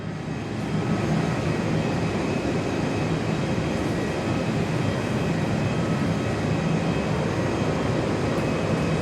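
Virgin Australia Boeing 737-700 taxiing out for takeoff at Perth Airport, heard from an indoor viewing platform as a steady, loud low engine rumble and whine that holds evenly throughout.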